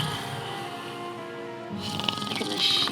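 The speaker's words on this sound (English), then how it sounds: "it sounds more like snoring to me" Rhythmic, grinding snoring played as a sound effect during a tabletop roleplaying game in the Dungeon of the Mad Mage: a steady rumbling snore that swells louder toward the end.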